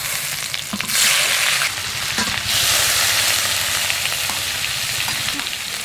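Cleaned prawns with garlic paste and salt fry in a hot pan for chow mein, a loud, steady close-up sizzle that swells briefly in two bursts, with no talking.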